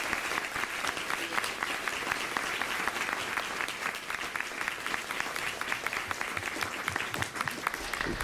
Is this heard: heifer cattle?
no